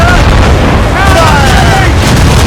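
Ship cannons firing during a naval battle in Assassin's Creed Rogue, a dense, loud wall of booming blasts and rumble with shouted crew voices over the top.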